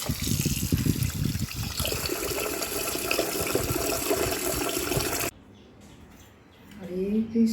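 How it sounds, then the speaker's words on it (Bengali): Rice being washed in water runs as a continuous loud gush and splash from a tap into a vessel, the flow changing pitch midway before stopping abruptly. A voice follows, talking softly. "চলো আমি চালটা ধুয়ে রাখি।"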